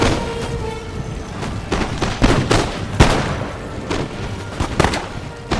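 Musket volleys crack and pop in an Empire Total War battle at a fortification, a dense, continuous run of scattered shots near and far layered over a rumbling battlefield din.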